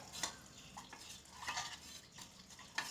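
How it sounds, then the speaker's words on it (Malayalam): A utensil scraping and stirring through thick ragi porridge in a non-stick pan, with soft irregular swishes and light taps against the pan, no voices. "എന്നിട്ട് നമ്മളിങ്ങനെ ഇളക്കി കൊടുക്കണം കേട്ടോ കൈയെടുക്കാതെ ഇളക്കി കൊടുക്കണം"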